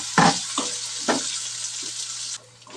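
Onion fries in a pan for mixed sprout usal with ajwain and asafoetida, a dense close sizzle with a few distinct spoon scrapes and stirring knocks, cutting quieter near the end.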